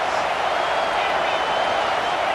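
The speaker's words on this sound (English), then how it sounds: "This crowd rising up, sensing that its defense needs some help." A football stadium crowd at a Notre Dame game roars in a dense, sustained wash of cheering, steady and loud throughout with no clear breaks.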